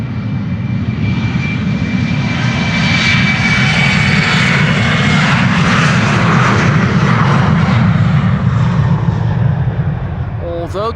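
Loud, sustained engine roar of a jet airplane taking off at Amsterdam Schiphol Airport, heard close and continuous, with a commentator talking over it.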